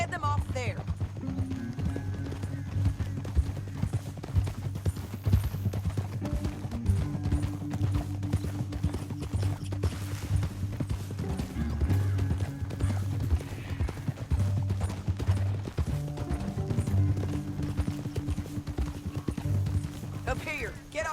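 Horse hooves clip-clop steadily through the whole stretch in the video game Red Dead Redemption 2, with voices talking and a low musical drone underneath.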